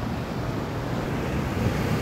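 Rough, continuous rushing of strong water and surf at New Brighton Pier, Christchurch, mixed with buffeting wind noise on the microphone.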